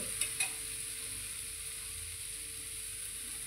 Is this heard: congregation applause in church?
no